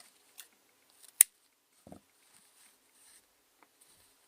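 Scissors snip crochet yarn while a tail is being sewn in on a cluster-petal crochet hat: one sharp, close snip stands out, followed by a few faint handling rustles in an otherwise quiet room.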